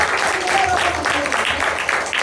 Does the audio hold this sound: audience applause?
yes